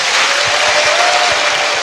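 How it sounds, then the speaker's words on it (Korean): A studio audience in Gwangju claps for two guests at the close of a live talk show, a short dense burst of applause, loud and steady. "자, 두 분의 박수 부탁드립니다."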